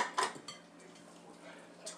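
A metal muffin pan clatters briefly as it is handled, one clear knock at the start followed by softer faint rattles and a small clink at the end, no talking.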